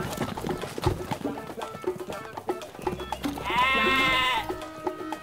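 Sheep bleat loudly in a farm setting, a drawn-out nasal cry standing out over shuffling movement and background noise, with other animal sounds around it.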